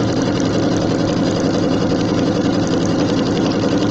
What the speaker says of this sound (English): I'm going to sew my 1/4 inch seam across the bottom